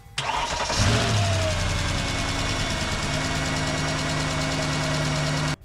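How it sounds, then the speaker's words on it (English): After a jump start, a car engine cranks briefly and fires right up, then settles into a steady, close idle that carries on loudly until it cuts off abruptly. "that thing instantly fired up with a ton of power"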